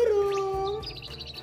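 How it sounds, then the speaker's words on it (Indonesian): A bird gives one long, clear, slightly falling whistle, followed by a few faint, quick chirps close by, with no talking. "Ada burung"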